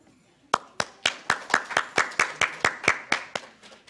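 A small audience claps for the executive director of a county historical society, a sparse run of about a dozen distinct, evenly spaced hand claps, close and crisp, fading slightly toward the end.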